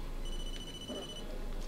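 A mobile phone rings in the Blair Witch video game (2019) inside a forest, with steady electronic ringtone tones repeating over a low ambient rumble for a couple of seconds.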